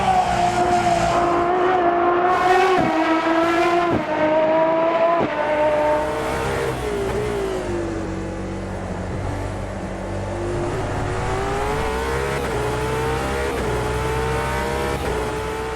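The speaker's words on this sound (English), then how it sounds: "how does its V12 sound in AMS2?" An Aston Martin Valkyrie's V12 in the Automobilista 2 racing sim screams at high revs, rising and dropping through repeated shifts with brief tyre squeal. The engine note is loud and continuous, with no talk over it.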